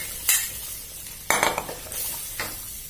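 Coconut milk and curry paste are stirred in a pot with Thai eggplant. A soft simmering sizzle is broken by three scraping bursts of the utensil against the pan, close by and with no voices.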